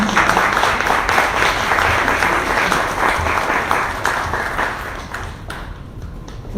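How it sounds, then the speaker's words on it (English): Audience applause for a speaker named Angie at a presentation, a broad steady patter of many hands clapping that tapers off near the end. "One more round of applause for Angie."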